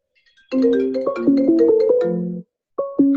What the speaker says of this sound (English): Somebody's ringing.